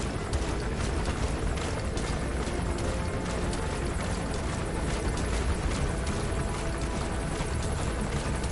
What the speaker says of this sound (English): Such bullshit that I can still get caught by this fucking heli.